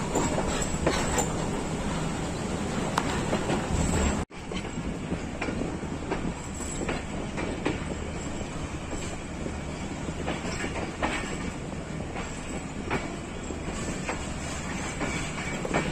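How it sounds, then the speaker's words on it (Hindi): A Tezgam passenger train rumbles steadily at a Karachi Cantt station platform with continuous wheel and carriage noise, a brief sharp break partway through, then the same steady rolling din. "8 डाउन तेज़गाम जो है वो प्लेटफार्म नंबर 1 पर लग रही है"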